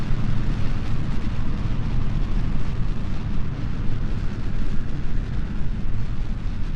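The Thyone J25 rocket lifts off with a loud, sustained roaring rumble, a dense continuous blast that pulses slightly but never lets up.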